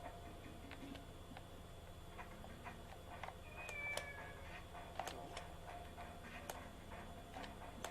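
A cat in Shenmue gives several short meows scattered over a quiet room, with a soft steady ticking like a clock running underneath; the calls are faint and fairly close, without talking.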